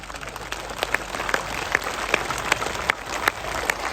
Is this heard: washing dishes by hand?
no